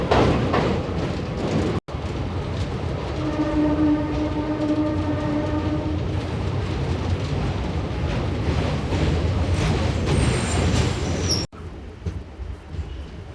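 A MEMU electric commuter train on the Guntur–Vijayawada line rumbles steadily and loudly from on board, with a long, sustained horn blast sounding midway through the run.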